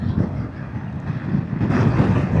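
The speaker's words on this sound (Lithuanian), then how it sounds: "Oi, koks vėjas." Strong wind buffets a motorcyclist's microphone on a cold, blustery ride, a continuous loud rumbling roar that swells toward the end.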